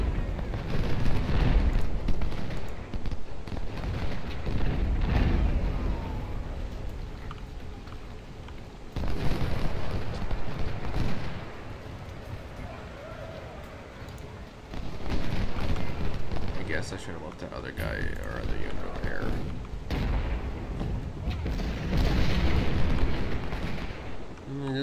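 Repeated deep booms of cannon fire in the American Civil War video game Ultimate General: Civil War roll through a dense, noisy battle soundscape, coming in heavy bursts with shouting voices mixed in.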